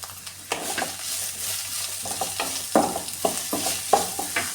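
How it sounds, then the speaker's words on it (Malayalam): Cabbage stir-fry sautéing in a pan, with steady sizzling and repeated scrapes and clinks of a spoon stirring against the metal, close and clear with no talk. "ഇതൊന്ന് ചെറുതായിട്ടൊന്ന് വഴറ്റിയെടുക്കാം."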